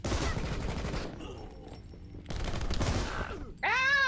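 Gunfire bursts in the side-scrolling video game RocketBirds Hard Boiled Chicken, loud rapid volleys of shots in two stretches separated by a quieter gap, ending with a ringing electronic effect.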